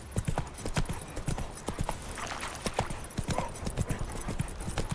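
Roach, the horse in The Witcher 3, gallops with a rapid, steady clip-clop of hooves close by, the even beats running the whole way through with no voices.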